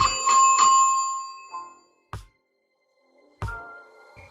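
An electronic notification bell chime rings with a bright sustained tone and two quick repeats, then a few short separate digital blips and a final chime, loud and isolated.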